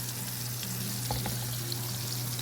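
Fish frying in hot oil for a home-cooked seafood meal, a continuous soft sizzle and crackle with a steady low hum underneath and a few brief pops, fairly quiet and close.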